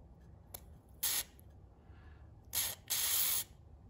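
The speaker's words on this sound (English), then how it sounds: "get some of this WD-40 and spray that so it gets oil in there." Short bursts of WD-40 spray into a mechanical Corvette tachometer part: a brief puff, a one-second hiss, then two more hissing blasts, close and crisp against near silence.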